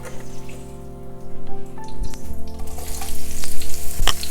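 Palm oil sizzles and crackles in a cooking pot for a vegetable stew, a loud, continuous frying hiss with scattered pops and a few clinks, close up and without speech.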